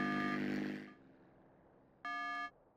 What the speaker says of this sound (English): Plane sounds really bad. It sounds like my fucking washing machine.